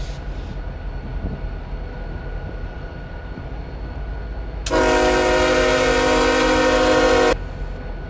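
CPKC diesel freight locomotive horn in the RO-Scale Sandbox video game, one long steady multi-chime blast of about three seconds rising over a constant rumbling engine background.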